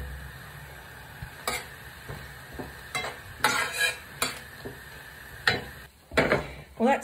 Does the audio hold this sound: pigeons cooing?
no